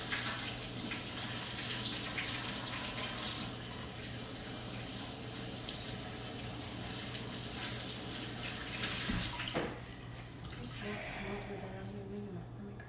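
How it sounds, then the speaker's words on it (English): Warm water runs steadily from a tap onto a washcloth, a broad continuous splashing that eases slightly partway through before stopping near the end, with someone talking over it. "Put warm water on the washcloth."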